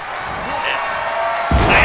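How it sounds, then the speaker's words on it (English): Arena crowd noise in a wrestling video game set in London, a steady roar of cheering that swells louder near the end, with commentary talking over it. "And the crowd loves it."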